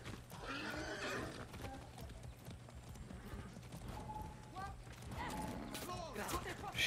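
A horse whinnies and hooves clip-clop close by, mixed with people talking, in a game scene about riding.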